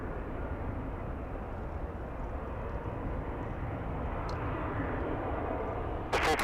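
An airplane at Los Angeles LAX airport produces a steady, distant jet engine rumble that continues throughout, ending in a brief louder burst of noise.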